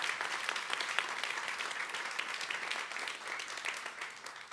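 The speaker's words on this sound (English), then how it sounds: "let's give a big round of applause to those ladies" Applause from a tech panel audience fills the room, a steady, dense patter of many hands clapping at moderate distance with no voices over it.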